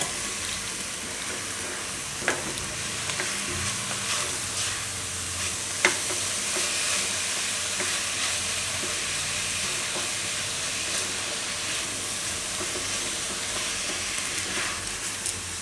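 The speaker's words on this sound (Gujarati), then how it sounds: "આમાં હવે પુદીનાના પાન નાખી દેવું અને મિક્સ કરી લેવું." A spoon stirs fresh mint leaves through pasta in a pan, with a soft steady sizzle and hiss underneath and a few sharp scrapes and clinks of utensil on metal, no talk.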